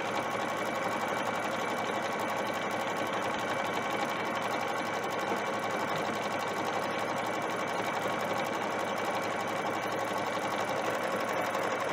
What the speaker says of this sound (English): it's gonna go all the way around in a circle, and it's gonna finish sewing this